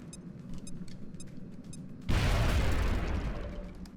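A frag grenade in XCOM: Enemy Within with the Long War mod goes off with a sudden, loud, booming blast that rumbles and fades over the next couple of seconds, after a quieter stretch of faint game ambience.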